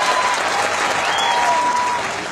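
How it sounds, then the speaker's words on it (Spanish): Strong, sustained applause from a crowd at a DXN plant event in Tlaxcala, Mexico, greeting the regional manager, dense and even throughout. "vamos a recibir con un fuerte aplauso al gerente regional de DXN en América"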